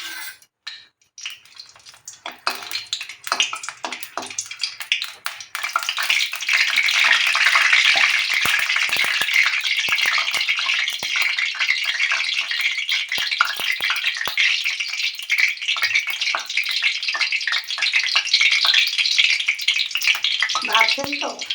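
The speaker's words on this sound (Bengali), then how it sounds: "বন্ধুরা তেল গরম হয়ে গেছে, এবার আমি প্রথমে শুকনো লঙ্কা কটা দিয়ে দেবো" Dried red chillies fry in hot oil in a kadai, giving a loud, steady crackling sizzle that builds after a few seconds of clatter and continues throughout.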